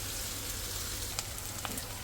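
Shrimp frying in a pan make a steady, quiet sizzle with a couple of faint clicks near the end, and no voices.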